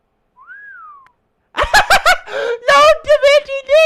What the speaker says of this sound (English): She whistled!